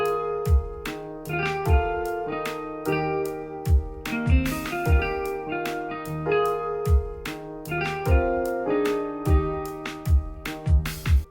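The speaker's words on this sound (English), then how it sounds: "you can see all of a sudden there's a lot more snare drums." A busier lo-fi hip-hop drum groove with extra snare hits, driving along under layered sustained chords with no voices.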